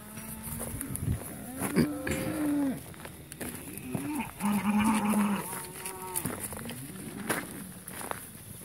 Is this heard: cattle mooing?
yes